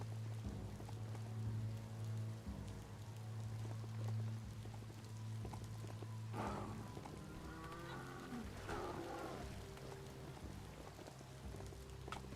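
Steady rain patters in the video game Biomutant, a continuous soft hiss of drops over low droning ambience, with a few brief rustling bursts partway through and no talk.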